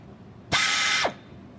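A drill fitted with a countersink bit chamfers and deburrs a hole in a vise stop, spinning up sharply into a loud, steady whine for about half a second before winding down, with quiet shop background around it.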